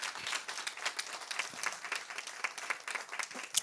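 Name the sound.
audience applause for community members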